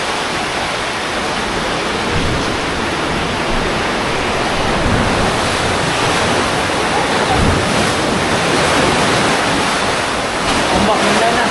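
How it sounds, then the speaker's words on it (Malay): Strong high-tide ocean waves surge and roar at a sea cave on Uluwatu beach in Bali, a loud, continuous wash of surf echoing without pause. "Ombak mendalam."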